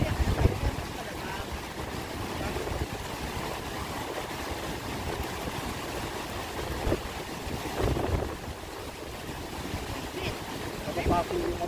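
Strong wind gusting across an open outdoor area beside the water, rumbling and buffeting the microphone continuously while people talk nearby.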